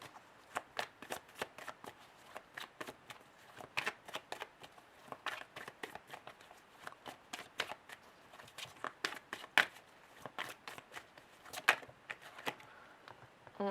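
Tarot cards are shuffled close by in a quiet room: a long run of crisp riffling flicks and soft slaps, repeated in quick uneven bursts with no talking.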